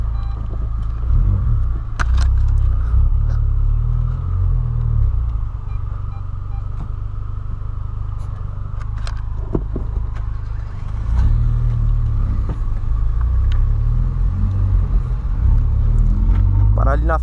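A Volkswagen Voyage and a Polo drive slowly, with a continuous low engine rumble and road noise swelling at intervals, close to the microphone, while people talk over it.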